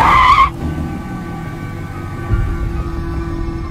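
Car driving fast in a film chase, a sharp tire screech that cuts off abruptly, followed by a steady engine rumble and road noise.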